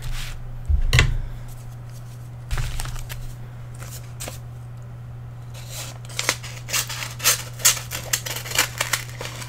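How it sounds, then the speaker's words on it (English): Scissors snip open a paper mail envelope up close, a few early crisp cuts, then a quick run of sharp snipping and paper rustle toward the end over a low steady hum. "I'm going to open it up with the scissors."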